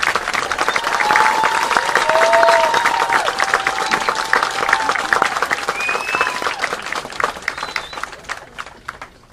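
A large audience at a high school graduation ceremony applauds the graduates, a dense sustained wash of clapping and some cheering that holds strong before gradually tapering off.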